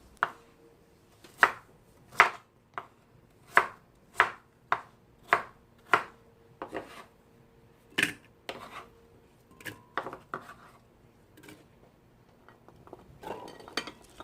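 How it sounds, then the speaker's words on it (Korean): A knife chops a small peeled pear into pieces for grinding, about a dozen crisp, evenly spaced cuts on a board, then sparser, irregular chops with light clinks, close and alone. "배는 작은 거 한 개를 껍질을 벗겨 가지고 예, 갈기 좋게 썰어 줬고요"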